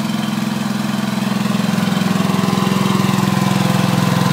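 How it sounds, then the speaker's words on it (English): Wisconsin engine driving a Winco generator set, running steadily at close range with a loud, rhythmic low chugging throb and a faint mechanical rattle, continuous throughout with no talk. "Here's the set. Probably doesn't sound too bad from here."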